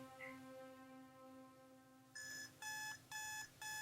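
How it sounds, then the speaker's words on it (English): An alarm clock rings in a movie scene: after a low tonal music bed, the alarm cuts in with loud, bright repeated bursts, four rapid rings separated by short gaps. "never start a film off with an alarm clock"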